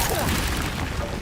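A Confringo fire blast spell in Hogwarts Legacy, a loud rushing boom that fills the short moment, with a voice speaking over it.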